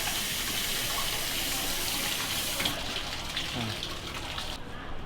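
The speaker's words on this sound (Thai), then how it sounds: "เขาให้ล้างมือก่อนนะ แค่ล้างมือนะครับ" Tap water runs steadily as hands are washed at a Thai temple in Uthai Thani, a constant splashing gush that cuts off near the end, with faint background voices.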